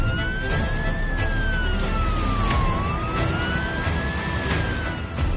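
A Dial 4242 ambulance in India sounds its siren, a loud, continuous wail that rises and falls in slow sweeps over steady road and traffic noise.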